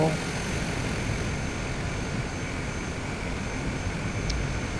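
Cessna Grand Caravan EX turboprop rolling on the runway in Microsoft Flight Simulator, a steady broadband engine and propeller roar holding at a constant level, with someone talking over it.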